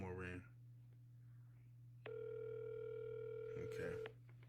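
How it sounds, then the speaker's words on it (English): A single telephone ringback tone sounds for about two seconds in the middle of an outgoing cold call, steady and fairly quiet, with a brief burst of talk before it and a low hum throughout. "I usually don't let the phone ring this long"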